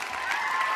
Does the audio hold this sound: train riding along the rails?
no